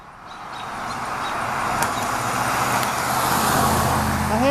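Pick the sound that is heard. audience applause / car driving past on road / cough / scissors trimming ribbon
car driving past on road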